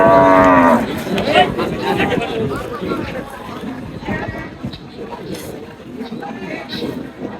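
Cows, including pregnant cows, at a village cattle market, with a loud close moo at the start followed by a busy crowd murmur and people talking throughout.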